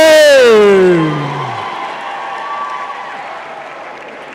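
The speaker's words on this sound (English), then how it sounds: "let's give a round of applause for Yolandi Homan, cum" A graduation ceremony crowd bursts into loud, sustained applause for a cum laude graduate, a tonal swell fading under it in the first second, then steady clapping that eases slightly and carries on to the end.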